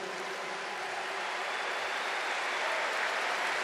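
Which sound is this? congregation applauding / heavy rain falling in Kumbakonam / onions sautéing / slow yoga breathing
congregation applauding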